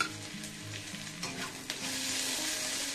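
Garlic and chili paste fry with potatoes and carrots in a pan, a loud close sizzle with stirring scrapes and a low hum underneath, no talking.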